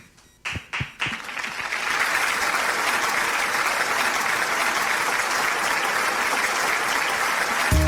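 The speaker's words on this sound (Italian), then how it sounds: "Facciamo allora un applauso" Audience applause at an Italian music show as a singer is introduced: a few sharp claps at first, then a full, loud, steady wash of clapping that holds to the end.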